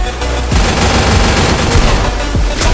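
Gunfire in the battle royale game Free Fire comes as loud, rapid bursts of shots in quick succession, dense and close, with heavier booming reports near the end.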